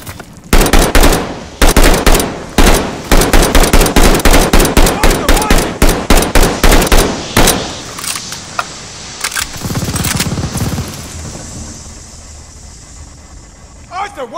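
Rapid gunfire in the Vanguard video game, dense bursts of automatic shots and sharp single cracks for several seconds, loud and close, with voices shouting over the firing before it fades into a rumbling lull.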